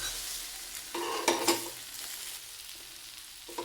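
Onion dosa sizzles on a hot pan as it is flipped. There is a soft, steady frying hiss, with a brief louder scrape and sizzle burst at the turn.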